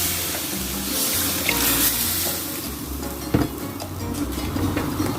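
Water pours into a pan on the stove while a Thai jungle curry with soft fish and papaya cooks, a continuous splashing gush over faint sizzling and a couple of clanks from the pan.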